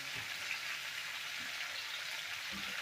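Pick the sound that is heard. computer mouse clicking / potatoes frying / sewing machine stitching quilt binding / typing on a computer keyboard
potatoes frying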